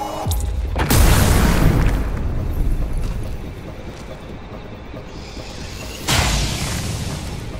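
A grenade blast in the video game XCOM: Chimera Squad: a heavy, booming explosion that rumbles and fades, followed a few seconds later by a second loud boom, with no talking.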